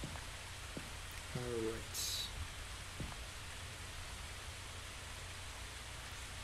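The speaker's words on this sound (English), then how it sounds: "Oh wait, it's raining." Rain falling outdoors in the Phasmophobia video game, a faint steady hiss throughout while a person speaks briefly.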